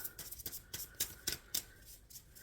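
Tarot cards shuffle in a steady series of crisp riffling snaps, about eight quick bursts close by, with no talk over them.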